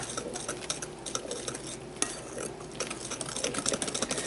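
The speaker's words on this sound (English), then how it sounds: "Now, mix this up." A spoon stirs lime cake batter in a bowl, with quiet, irregular clicks and scrapes against the sides and a few sharper taps, close and soft with no talking.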